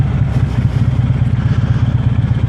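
A motorcycle creeping along in first gear on the clutch friction zone with no throttle, its engine giving a steady, close, low-pitched chug with regular pulsing throughout, no revving.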